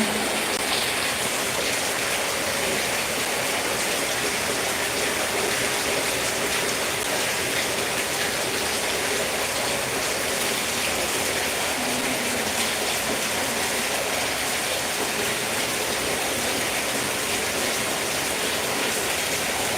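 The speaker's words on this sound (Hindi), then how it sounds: "आवाज सुनाई दे रही कि नहीं बरसात की?" Heavy rain falls outdoors in a rural Awadhi-speaking area, producing a loud, dense and unchanging hiss of water striking surfaces that carries on for about twenty seconds with no talking.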